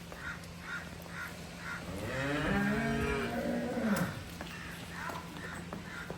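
A cow lets out one long, low moo near the middle, with rhythmic background chirping and faint farm noise around it.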